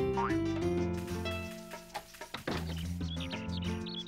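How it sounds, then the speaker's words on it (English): A chicken in the Harvest Moon: Another Wonderful Life farming game gives cartoonish clucking and chirpy calls over cheerful looping background music, close and clear. "Oh, that's my chicken."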